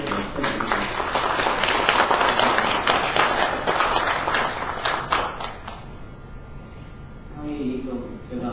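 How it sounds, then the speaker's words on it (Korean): An audience at a Gangnam economic forum claps warmly, a dense, fairly close round of applause lasting several seconds before thinning out, with a voice speaking over the end. "뜨거운 박수 한번"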